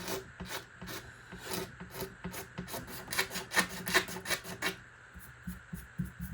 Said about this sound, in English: So we'll scrape that off just a little bit. Just to help get some of that CA glue residue off of there.